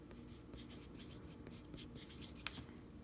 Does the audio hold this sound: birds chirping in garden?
no